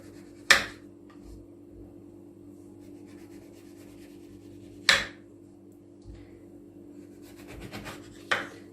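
A knife slices the ends off oranges and a lemon on a board with three separate crisp chops spread several seconds apart, near and fairly quiet over a low steady hum.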